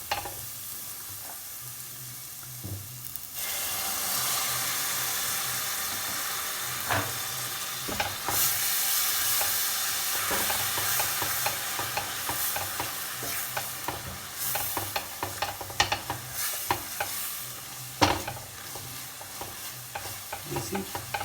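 Onions and spices for matar paneer fry in a pan while being stirred, a steady close sizzle broken by scraping and tapping of the spoon against the pan, with no speech.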